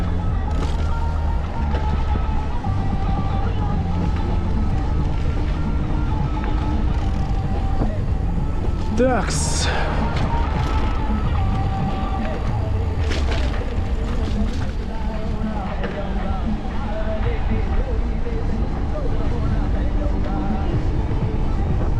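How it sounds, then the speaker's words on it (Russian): Strong wind roars and buffets the microphone throughout on a December bike ride between Adler and Sirius, Sochi. A person speaks briefly, and a low engine-like rumble runs underneath. "Там тихо, так спокойно, а здесь ветер."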